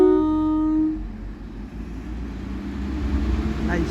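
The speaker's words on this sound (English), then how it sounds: "Train now departing is 175, going to Manchester Airport" Class 175 diesel train departing Newton-le-Willows station for Manchester Airport, a two-tone horn sounding briefly at the start before a steady low engine rumble builds as it pulls away.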